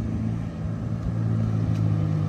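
A lowered Ferrari California rumbles with a steady, deep engine drone during a music video shoot, rising slightly in loudness as the car approaches, with no voices over it.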